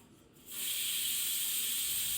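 A pressure cooker whistle lets out a loud, steady hiss of steam while caramel pudding is being made. It starts suddenly after a quiet moment and holds at an even level, with nobody speaking.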